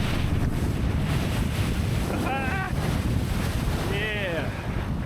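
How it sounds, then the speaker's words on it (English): Wind and water rush steadily beneath a kiteboard while kitesurfing upwind in Utah, a constant roar of wind buffeting the microphone with brief whistling tones in the middle and near the end. "listening to the sound of the wind and the water shredding"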